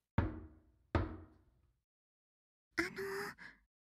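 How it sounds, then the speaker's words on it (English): Two sharp knocks on a door in a visual novel game, well spaced and close, followed moments later by a brief breathy sigh. "Suddenly, he heard a knock on the door."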